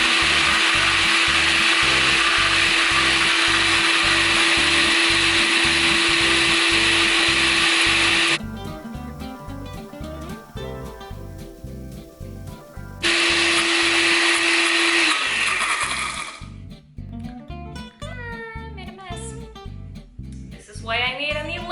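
Electric blender churning a thick homemade parsley and garlic mayonnaise, a loud continuous whirring drone with rhythmic pulsing that halts briefly, restarts, then gives way to sputtering, splattery bursts near the end.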